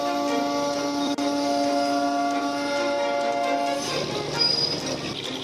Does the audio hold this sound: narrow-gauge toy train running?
yes